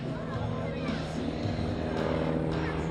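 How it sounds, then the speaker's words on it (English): High-performance aerobatic airplane flying at an air show, a steady distant engine drone blended with crowd noise and a loudspeaker commentator talking over it throughout. "This airplane, high performance, and has an amazing thrust-to-weight ratio"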